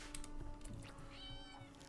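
A cat meows in the video game RimWorld, giving a short, clear meow over a low mechanical hum with some background game noise.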